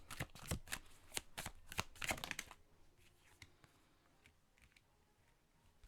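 Oracle cards are shuffled close up in a quick burst of crisp riffling flicks and slaps, followed by a few quieter soft taps and slides as a card is drawn.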